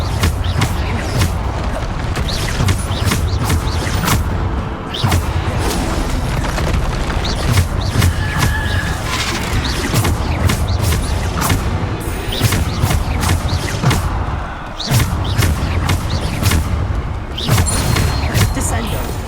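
Bombarda spell blasts in Hogwarts Legacy thud and boom repeatedly over dense combat noise, the loud impacts landing one after another with short gaps throughout.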